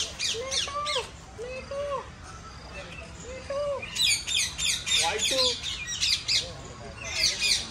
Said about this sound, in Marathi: सिल्वर पिजंट